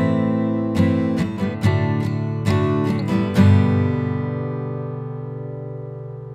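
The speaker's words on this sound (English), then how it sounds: "So we started with our raw acoustic guitar, and it's my Rode NTG4 shotgun mic that I always keep on my desk" Raw acoustic guitar picked about eight inches from a Rode NTG4 shotgun mic on a desk: a handful of plucked notes and strums that end on a final chord ringing out and slowly decaying.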